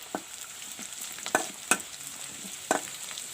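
Panch phoron spices fry in hot oil with onions, a faint steady sizzle broken by a few sharp clicks and stirring scrapes.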